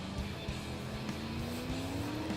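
Offroad utility car from an 80s-themed racing game braking hard into a hairpin, a steady loud engine drone with a rising whine and faint tyre scrub, continuous with no talking.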